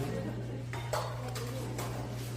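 Biscuit savoie batter stirred in a bowl, a few soft scraping and tapping knocks over a constant low hum, close and fairly quiet, with no clear speech.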